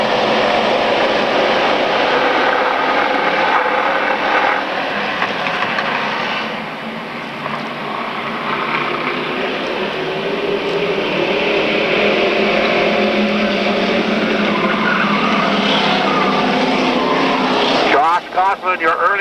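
Street stock race cars roaring around an oval track during a 10-lap semi-final, a loud, continuous engine drone with shifting pitch as the pack passes, and an announcer talking over it.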